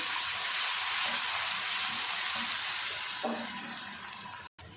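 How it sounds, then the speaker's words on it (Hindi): Ginger and garlic frying in hot oil with golden onions for a beef paya curry, a steady, loud sizzle that goes on throughout with faint stirring scrapes, then tapers off slightly before a brief dropout at the end. "2 खाने के चम्मच इसमें डाल देंगे अदरक और लहसुन। 1 से 2 मिनट इसको भी साथ चला लेते हैं।"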